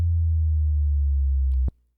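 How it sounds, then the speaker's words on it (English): Smooth synth sine-type tone with a low filtered body, holding steady and gliding slowly downward in pitch before cutting off abruptly near the end, heard alone without any voices. "This is like a sine wave, triangle, whatever, filter down. And then pitch it slowly."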